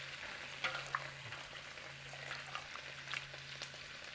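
Wet spaghetti tipped into frying bacon in a wok, a soft continuous sizzle with a few clattering knocks of pasta and utensil, fairly quiet and without voices.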